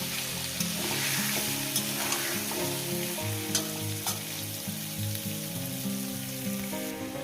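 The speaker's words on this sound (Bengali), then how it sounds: "এইদিকে আমার আলু ভাজা হচ্ছে" Steady crackling sizzle of potatoes frying in hot oil for aloo dum, continuous and close, with occasional scraping of a utensil against the pan and no talking.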